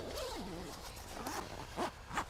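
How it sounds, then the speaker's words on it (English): A zipper is drawn shut along the front of a hunting hammock chair outdoors, a few quick rasping pulls close by, with faint background noise. "You zip up in the front."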